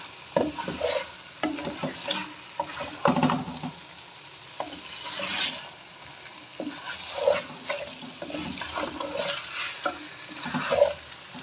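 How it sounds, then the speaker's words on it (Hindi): Chicken achari with potatoes and slit green chillies sizzles in a pan while a spoon scrapes and stirs it in repeated bursts, the frying hiss steady but moderate in level. "दो मिनट मज़ीद भूनूंगी अब मैं।"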